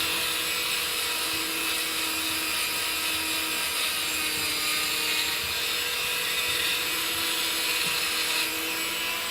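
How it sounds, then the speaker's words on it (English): A Dremel rotary tool whines in a steady, high-pitched continuous drone up close while polishing the screws of a Crosman 2240 air pistol, with no pauses. "it doesn't take any time because the Dremel is doing all the work for you"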